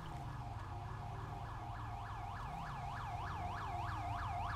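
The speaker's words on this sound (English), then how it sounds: "All right, I do hear an ambulance." An ambulance siren wails in GTA 5, a repeating rising-and-falling electronic whoop cycling steadily over a low engine and traffic rumble, moderately distant and heard alone.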